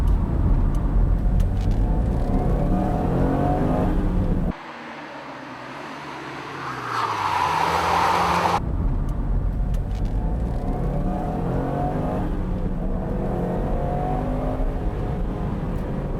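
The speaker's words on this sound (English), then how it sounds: "Coming up to the tight turn, Solberg makes the handbrake turn without heel and toe." Rally car driven by Solberg through a tight turn with a handbrake turn; loud steady engine drone drops away briefly, then a rising rev and whine return as it powers out.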